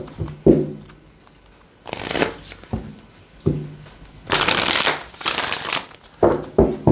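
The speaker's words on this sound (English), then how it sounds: "One more shuffle." Tarot cards shuffled in several bursts, quick riffling flutters separated by pauses and soft taps as the deck is squared, close and fairly loud.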